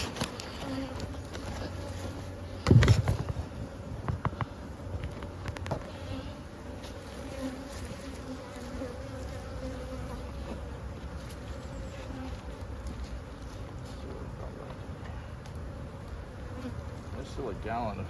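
Honeybees buzz steadily around backyard beehives being fed sugar syrup, a close, continuous droning hum with a few louder knocks and handling thuds early on.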